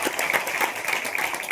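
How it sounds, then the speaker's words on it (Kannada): A church congregation claps loudly together during a prayer service, a brief, dense burst of steady applause. "ಚಪ್ಪಾಳೆ ತಟ್ಟಬೇಕು ಜೋರ."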